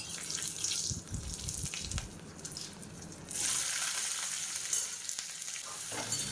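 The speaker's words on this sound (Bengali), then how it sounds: "এবার এগুলোকে আমি তেলে ভেজে নেব।" Potato, eggplant and stalk vegetables fry in oil with a close sizzle and stirring scrapes, a brief watery splash, then the hiss swells into a loud steady crackle for the rest.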